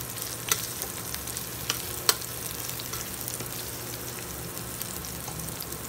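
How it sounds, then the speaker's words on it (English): Onion frying in a pan for vegan fried beans, a steady close sizzle with a few faint crackles and pops throughout. "First we fry the onion."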